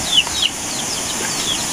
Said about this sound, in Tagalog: Ayan yung mga inahing manok natin guys.